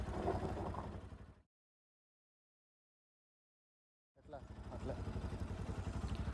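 A friend's vehicle runs along an off-road route toward Dabbaguli in the Cauvery Wildlife Sanctuary, its engine rumbling close under a speaking voice. The sound cuts to silence for several seconds, then returns.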